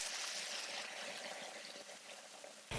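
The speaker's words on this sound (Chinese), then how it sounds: "姜蒜煎香之后倒入开水，" Boiling water poured into a pan of fried ginger, garlic and fish to make fish soup, a steady close gushing pour with bubbling that stops abruptly at the end.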